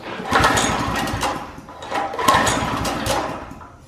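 A Briggs & Stratton 5hp tiller engine runs close by with a steady, rough mechanical drone that surges and dips over a few seconds before fading near the end.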